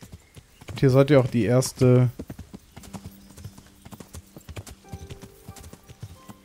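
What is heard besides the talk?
horse hooves while riding in Kingdom Come: Deliverance video game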